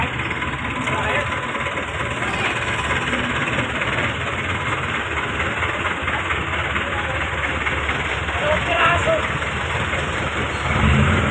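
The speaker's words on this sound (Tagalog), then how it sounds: "Daming jeep dito." Many jeepney engines idling at a busy jeepney terminal on Austria Street in Novaliches, Quezon City, a dense continuous rumble and drone with occasional revs rising near the end.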